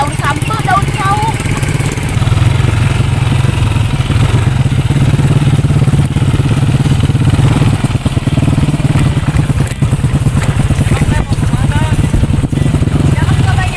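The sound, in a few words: motorcycle riding along a village road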